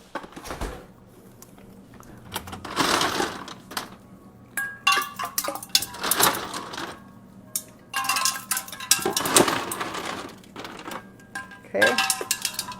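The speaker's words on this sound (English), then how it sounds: "I'm going to throw some ice in here." Ice thrown into a container of water for cucumber agua fresca, several bursts of clattering cubes clinking against the sides, separated by short pauses.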